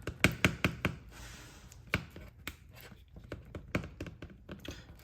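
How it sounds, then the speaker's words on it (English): Two-part epoxy being mixed by hand for rod building, heard as a run of close, sharp taps and knocks from the stick against the mixing surface, irregular and quiet, with no talk. "I'm just gonna mix them just like any other epoxy"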